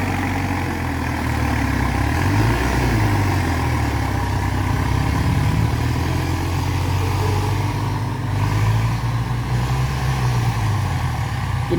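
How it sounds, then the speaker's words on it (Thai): A heavy tractor diesel engine rumbles continuously close by, pushing a vehicle stuck in fresh soil, its pitch rising and falling as it revs under load, with no voices. "รถไถก็ดันจนสนุกสนานเลย"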